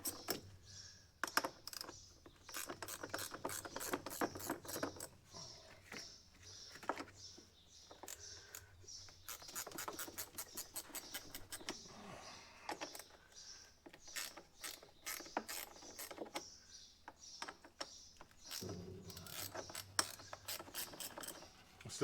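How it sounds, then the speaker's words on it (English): Rapid metallic clicking of a ratchet spinning in repeated bursts, each run a dense chatter of pawl clicks separated by brief pauses, close and fairly quiet with no talking. "Shout out to ratchet spinners."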